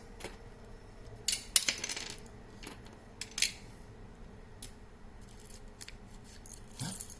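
Small metal screws, including little hex-head ones, clink and rattle as a handful is sorted by hand, with scattered light clicks and a few brighter bursts of metal on metal, close and fairly quiet with no talking.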